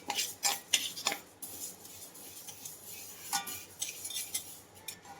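Urad dal being roasted and stirred in a pan for chakli flour, a dry rustling scrape with repeated sharp clinks of a metal spoon against the pan, close and moderately quiet.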